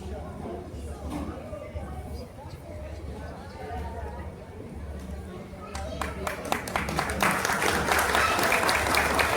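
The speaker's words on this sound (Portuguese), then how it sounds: "uma salva de palmas bem forte" An audience at a riverside conversation event breaks into a loud round of applause that swells in the final seconds, following a stretch of speech over a low steady hum.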